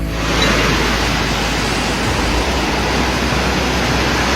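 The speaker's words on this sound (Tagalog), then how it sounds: "Pagragasa ng baha." A loud, continuous roar of rushing floodwater from a typhoon's heavy rain, dense and unbroken throughout, with no voices.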